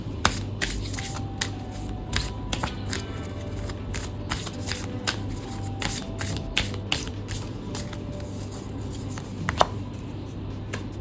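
Tarot cards being shuffled by hand, a steady run of crisp riffling flicks and soft slaps, close and fairly quiet, with a low hum underneath and no talking.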